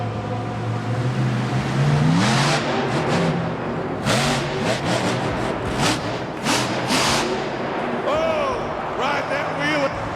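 Madusa's monster truck engine roars and revs in bursts as it climbs over a school bus and a mobile home, loud throughout, with an arena commentator talking over it.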